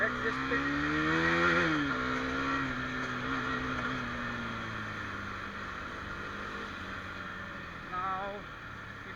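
A Husqvarna Svartpilen 250 scrambler motorcycle (2020 BS6) revving up in first gear toward redline, the engine note rising steadily then easing off, heard up close while riding in town with someone talking over it.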